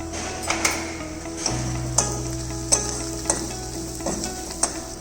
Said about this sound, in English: Lightly saute masala